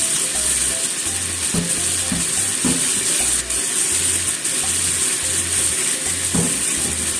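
Sliced burdock root stir-fries in a hot pan for kinpira, a steady loud sizzle with occasional scraping and clacking of a utensil stirring the pieces, alone with no voices.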